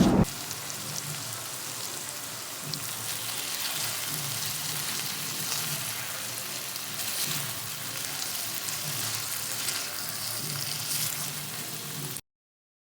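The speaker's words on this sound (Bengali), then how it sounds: "মলা মাছগুলো কিছুক্ষণ কষিয়ে নিয়ে কুচি করা আলু দিয়ে দিলাম।" Mola fish and chopped potato frying in a pan, a steady close sizzle and crackle running continuously with no talk.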